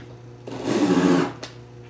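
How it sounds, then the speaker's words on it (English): A power driver sends a screw into angle iron while a weapon retention kit is installed. A single short motor whir of under a second rises and stops, close and alone with no talking. "put the screw in"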